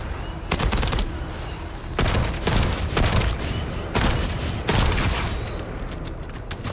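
Rapid bursts of automatic gunfire from The First Descendant video game come in several loud, close volleys separated by brief gaps, with no talk.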